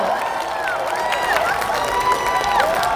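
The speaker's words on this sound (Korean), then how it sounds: "여러분 우리 이재명 후보님께 뜨거운 박수로 환영합시다." A large outdoor political rally crowd in Busan cheers and applauds for a presidential candidate, a continuous roar of clapping with shouted, whistling voices rising above it.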